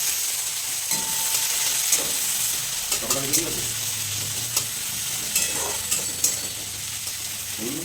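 Poppy seed paste (posto) sizzles and fries in a pan while a spoon scrapes and stirs it, giving a steady hiss with intermittent clinks and scraping strokes throughout.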